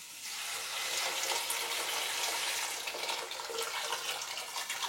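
Hot water pours steadily into a large pot for a velouté of butternut squash and red lentils, a continuous, fairly loud rushing splash that holds from start to finish with no talking.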